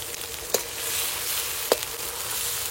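A paste of green and dried chili with spices frying in oil in a pan, a steady loud sizzle throughout with two brief clinks of a spoon stirring against the pan.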